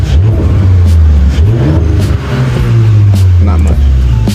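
A stock Audi S4 turbo engine revs up and down in a steady cycle, loud and close, its low drone rising and falling with brief blips of throttle.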